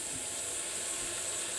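Onion and garlic frying in a pan for a Loubia Baida white bean dish, giving a steady, close, even hiss and sizzle with no talk over it.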